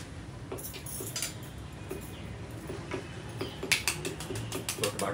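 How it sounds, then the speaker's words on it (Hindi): A spoon stirs onion and tomato masala in a pot for a chicken or mutton curry, making steady scraping and clacking against the metal in an irregular rhythm that grows louder toward the end, with no talking. "अभी आप बस चम्मच चलाएं तकरीबन 2-4 मिनट तक"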